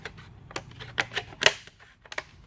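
Scored plastic armor for a child's Deathtrooper costume leg being bent and snapped, giving a few sharp, close cracks and clicks in quick succession with small creaks between them.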